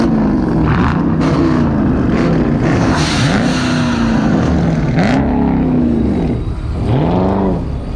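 Ford Mustangs leaving a cars and coffee meet in West Sacramento rev their engines loudly and close by, with repeated rising and falling revs from about three seconds onward, followed by a final sharp rev.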